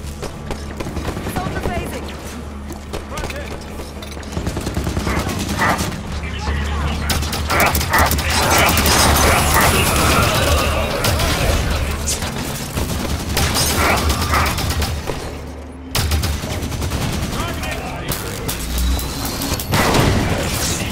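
Auto turrets in Halo 5 Guardians fire in loud, dense bursts of rapid gunfire and booming impacts, continuous through most of the stretch with brief lulls, mixed with battle noise and voices.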